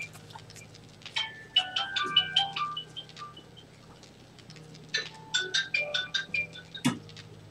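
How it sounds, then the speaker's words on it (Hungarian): A mobile phone's melodic ringtone chiming in two bursts of short tonal notes, fairly faint, against a quiet background hum during a game session. "Nem hiszem, hogy csörög a telefonom"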